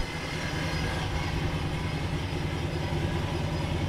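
A supercharged TorqStorm HEMI RAM 4x4 truck roars steadily close by, a loud, dense engine drone with deep low rumble holding for about four seconds and no voices.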